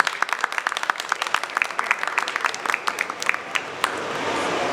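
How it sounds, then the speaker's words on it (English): Conference attendees clap in a short burst, individual claps crisp and near, building briefly before fading into a hushed room tone. "A round of applause, please."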